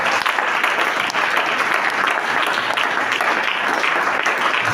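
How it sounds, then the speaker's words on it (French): A church congregation applauds and cheers, with steady, dense clapping from a large crowd that holds an even loudness from start to finish. "je crois que tu allais m'acclamer très fort."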